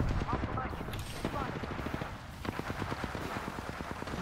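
Rapid bursts of gunfire in Apex Legends crackle in quick repeated volleys, steady and close, with a voice faintly underneath.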